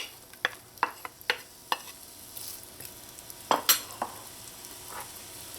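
Onions sauté in melted butter in a pot with a soft steady sizzle, broken by sharp clicks and scrapes of a spoon stirring, close and fairly quiet with no talking.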